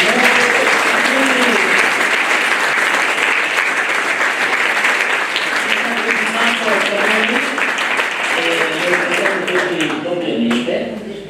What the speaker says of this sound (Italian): E farei un altro applauso al dottor Marini